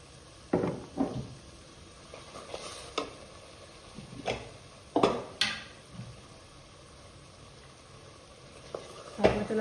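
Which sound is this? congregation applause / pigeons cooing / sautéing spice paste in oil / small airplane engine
sautéing spice paste in oil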